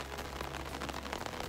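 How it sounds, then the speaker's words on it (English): Heavy rain pounding on a tiny house, a dense steady hiss and patter filling a brief moment with no voices. "The rain is so strong, it's crazy."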